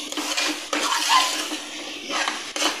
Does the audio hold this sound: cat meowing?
no